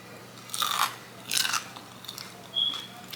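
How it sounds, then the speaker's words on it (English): Crunchy smashed potatoes dipped in ketchup being bitten and chewed close up, three distinct crisp crunches spaced about a second apart in an otherwise quiet room. "That was a good crunch, right?"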